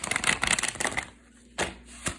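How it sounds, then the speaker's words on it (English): Oracle cards being shuffled by hand, a quick burst of soft riffling flutters followed by a pause and two sharp taps of the deck, close and quiet. "Let me give it 2 more shuffles just to make sure everything"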